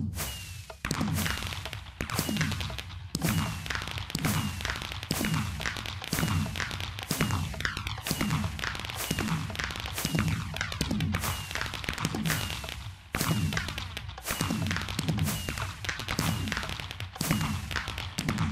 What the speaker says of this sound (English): we're going to set off a nice 19 sets of fireworks just for Shaun